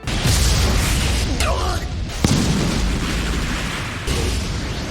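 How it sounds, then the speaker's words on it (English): Anime Heaven's Light magic attack: a loud roaring blast of energy with sweeping whooshes and a sharp impact crack midway, then a fresh surge of rumbling explosion near the end. "Yuji immediately attacks Kenji with Heaven's Light magic."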